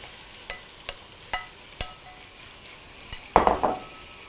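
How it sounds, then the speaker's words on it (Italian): Shrimp cook in a pan of hot oil with garlic, giving a faint, quiet frying hiss. Sparse utensil taps and clinks sound against the pan, then a brief louder stirring scrape near the end. "in una padella scaldiamo 3 cucchiai d'olio, uniamo l'aglio e lo lasciamo leggermente rosolare"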